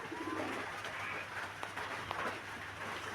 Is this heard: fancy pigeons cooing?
yes